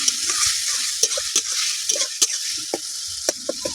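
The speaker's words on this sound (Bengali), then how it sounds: "এটা একটু ভেজে নেব, মশলার সাথে একসঙ্গে ভেজে নেব।" Beetroot paste made from two medium beets fries with spices in a pan, giving a steady hiss of sizzling oil. Sharp scrapes and knocks from a stirring utensil punctuate it up close, with no voices.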